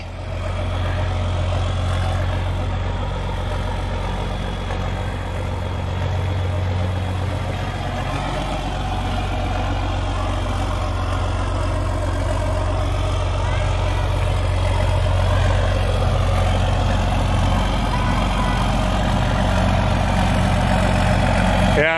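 A John Deere 4440 tractor engine rumbles at a low, steady idle while hitched to a 35-foot cultivator, a deep continuous throb close by, with someone speaking over it.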